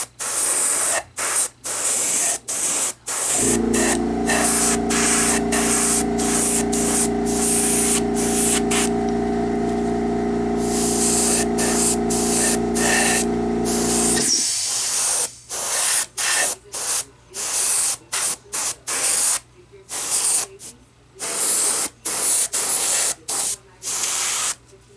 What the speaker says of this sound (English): do a little orange spray on the paper towel to make sure the paint is flowing